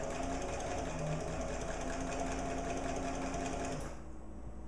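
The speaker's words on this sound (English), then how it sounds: "And I'm going to begin sewing. Do a couple forward, a couple reverse. I'm going to sew." A sewing machine stitching through fabric runs in a continuous, fast, close whirring buzz for several seconds, then stops, leaving a quieter background.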